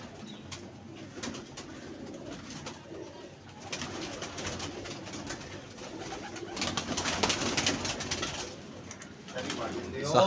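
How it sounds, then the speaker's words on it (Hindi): Pigeons coo steadily in a loft-like space, with rustling and bursts of wing flapping building toward the end; no one speaks. "ये देख ले साजिद भाई से कबूतर भी नहीं पकड़ा जा रहा है।"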